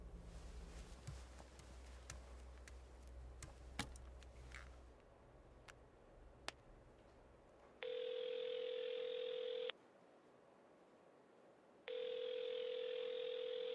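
A phone call rings unanswered: after a stretch of faint ticking and room noise, two long steady ringback tones sound loud and alone, separated by a pause, with no voice answering.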